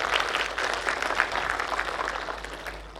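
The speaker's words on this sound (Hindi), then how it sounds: "एक तालियां अपने लिए बजा लीजिए।" An audience at a talk claps for themselves, a continuous wash of hand clapping from many people at moderate distance, steady and fairly soft over a low hum.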